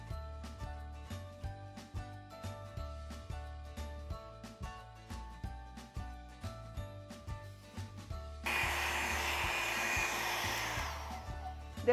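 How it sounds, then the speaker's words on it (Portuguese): Hair dryer blowing over freshly brushed glossy acrylic varnish on a small pot, a steady loud whir under rhythmic tapping music that turns into a dense, close rush of air in the final seconds. "Eu acelerei com o secador."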